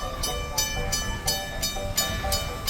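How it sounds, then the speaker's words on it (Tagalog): A train passing at Heritage Park in Calgary, its wheels clattering in a steady, regular rhythm of loud repeated knocks over a continuous rumble, fairly close, with no voices. "Padaan yung train."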